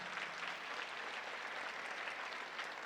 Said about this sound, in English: that deserves a round of applause for all of you